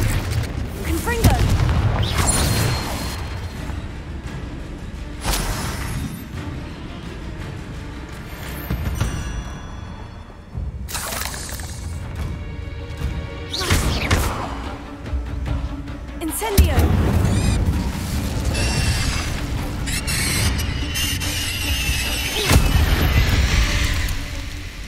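Confringo fire spell explosions in the Hogwarts Legacy video game: repeated heavy booms and blasts break out in several bursts over a rumbling battle, with voices heard among them.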